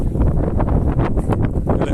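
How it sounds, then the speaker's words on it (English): Wind by the sea battering the microphone in rough, uneven gusts, loud and close, with a low rumble and no voices. "Bit windy here at the minute."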